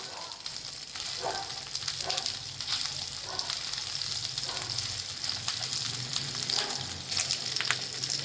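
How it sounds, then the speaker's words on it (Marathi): Stuffed capsicums fry in spice masala in a pan, giving a steady, close hiss and sizzle with occasional soft scraping as they are set upright and turned. "याच्यामध्ये आता डोबळे मिरच्या अशा सोडून द्यायच्या म्हणजे उभ्या ठेवायच्या अशा"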